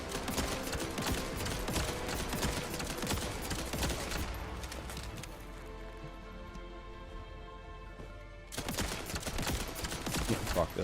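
Automatic gunfire from a gun in The First Descendant rattles in dense, sustained bursts, easing briefly midway before resuming loud and close, with game effects mixed underneath.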